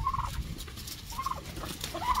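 Backyard chickens at feeding time in winter, with turkey-like gobbling calls in three short bursts over a steady noisy background, fairly close.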